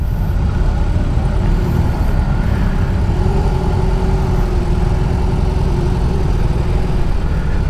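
A 2022 BMW R18 B motorcycle engine rumbles steadily as the bike is put into first gear to set off, a loud, close, continuous low throb with no speech over it.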